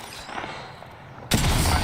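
Gunfire in Apex Legends erupts abruptly after a quieter stretch, a loud, dense burst of rapid shots that continues to the end.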